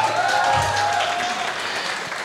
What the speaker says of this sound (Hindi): इसलिए जोरदार ताली होनी चाहिए